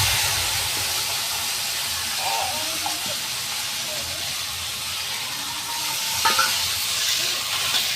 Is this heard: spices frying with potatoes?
yes